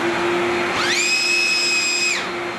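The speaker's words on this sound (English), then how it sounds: "I'm going to turn all 3 motors on and we'll get my reading here." Record Camvac 90L dust collector starting up with all three motors, a rising whine that climbs into a steady high-pitched motor scream over a constant hum, then drops away near the end.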